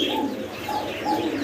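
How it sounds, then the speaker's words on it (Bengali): A pair of doves kept for sale with their chicks, cooing in repeated soft, low, rounded calls close by, with a faint chirp over the top and no talk. "এই একটা ঘুঘু পাখির জোড়া এখানে"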